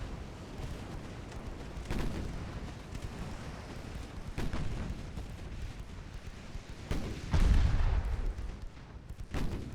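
Naval artillery fire in Ultimate Admiral: Dreadnoughts during a big 1895 battle near Thailand, heavy booms spaced a couple of seconds apart, with a deeper, louder blast near the end.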